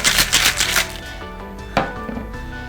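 A cocktail shaker holding a grapefruit Salty Dog cocktail rattles with ice in quick, loud strokes for about a second, then drops to quieter clinks and a single sharp knock.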